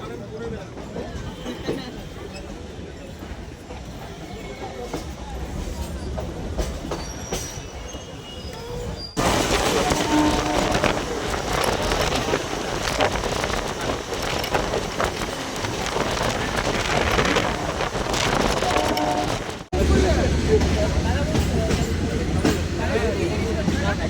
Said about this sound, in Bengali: রানাঘাট স্টেশন থেকে এখন ট্রেন ছেড়ে দিল